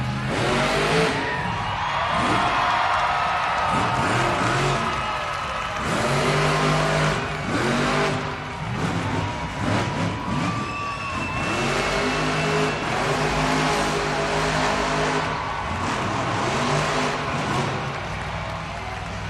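The Jurassic Attack monster truck, driven by Tim Hall Jr. in a Wichita arena at Monster Jam, roars loudly with repeated rising and falling engine revs over a dense crowd wash.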